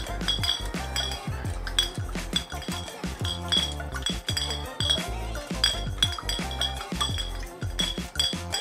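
Spoon clinking and scraping against a bowl while ingredients are mixed for a batter, a busy run of close metallic clinks and taps with no talking.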